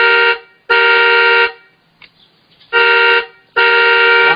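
The horn of a Ford Ranger KD105 children's electric ride-on car sounds four loud electronic honks, each about a second long, with short silent gaps between them, close up and alone.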